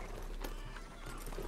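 Horse hooves clip-clopping while riding in the Red Dead Redemption 2 video game, a steady dense gait of soft thuds under a constant wash of outdoor game ambience, moderately loud with no clear talk.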